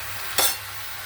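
Hilsa fish head curry sizzles in a pan, steady frying noise with one short, louder burst of stirring in the middle before it settles back.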